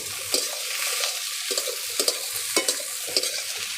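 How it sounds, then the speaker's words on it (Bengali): Yardlong beans tossed into a pan of onion and garlic fried until red, a constant sizzle with rhythmic spatula scrapes about every half second, close and with no talk. "পেঁয়াজ রসুনগুলো লাল লাল করে ভেজে নিয়েছি, এবার বটবটিগুলো দিয়ে দেব। এবার একটু নাড়াচাড়া করে দেব।"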